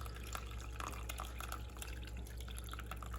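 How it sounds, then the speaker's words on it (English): Water drained under pressure from a home heating boiler into a tub, a steady close splashing trickle with scattered drips over a low hum. "I should be able to open this and just drain the pressure off the boiler into the tub, like that"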